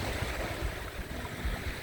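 Small sea waves at Chao Lao beach in Thailand wash in as a steady, broad rushing surf with some wind noise on the microphone, continuous and fairly close, with no talk.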